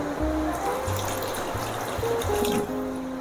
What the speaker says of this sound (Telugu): కొంచెం వాటర్ ఇంకా కొంచెం వేస్తాను